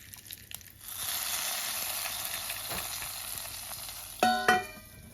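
Mustard seeds and dried red chillies crackling in hot oil for a South Indian tempering, a sudden rise into a steady sizzle after about a second, then sharp popping bursts near the end, no speech.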